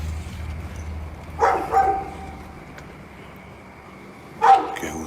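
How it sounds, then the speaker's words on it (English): A dog barks nearby in two separate bursts, a pair of quick barks early and another single sharp bark near the end, heard over a steady low background hum. "There's a dog nearby, clearly."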